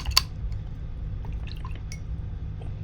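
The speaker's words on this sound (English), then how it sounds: "And I'm going to clean my brush." An acrylic paintbrush swishes and taps in a cup of rinse water, with a sharp clink against the container at the start, followed by soft scattered drips and splashes up close.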